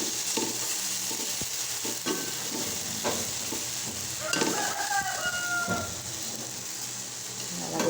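Pork hock sizzles as it is sautéed in a pan, a steady crackle with scraping stirs and clanks of a utensil, and a faint rooster crow rings out in the background.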